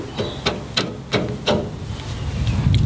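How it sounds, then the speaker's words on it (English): A boat prop shaft is driven into place with about five sharp, evenly spaced hammer strikes, close and loud, followed by a steady low hiss. "here's the nerve-wracking moment where we hammer it in."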